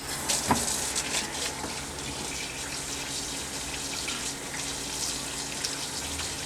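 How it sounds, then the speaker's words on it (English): Tap water runs steadily from a kitchen faucet as hands are washed during biscuit baking, a continuous close rushing hiss that holds through the whole stretch with no talking. "I'll wash my hands."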